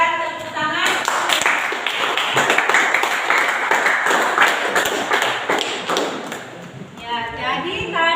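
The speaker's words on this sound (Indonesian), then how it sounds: "Berikan tepuk tangan." Audience in a classroom or university session clapping steadily for several seconds after a group presentation, dense hand claps with voices mixed in at the start and end.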